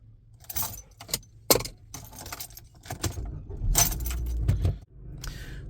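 A Volvo C30 car key jangles close by in a few bursts of bright metallic clinking, separated by short quiet gaps, with a low rumble beneath the later shakes.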